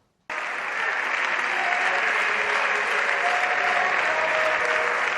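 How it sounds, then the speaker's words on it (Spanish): Standing ovation from Socialist deputies in the Spanish Congress of Deputies, a sudden start of loud, dense clapping that holds steady and sustained, with faint voices underneath. "Aplausos en pie a Cerdán de la bancada socialista tras defender su inocencia"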